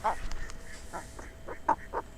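Several short nasal whistling calls of Eurasian wigeon spaced irregularly over quiet outdoor background in Urdaibai, fairly faint and distant.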